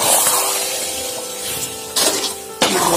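Mango pickle with chopped raw mango bubbles and sizzles steadily in a pan, a continuous frying hiss with two sharper bursts of spitting near the end, heard up close with no talking.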